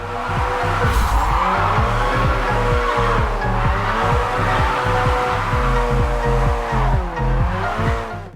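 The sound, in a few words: engine sounds and tire screeching in Japanese racing video game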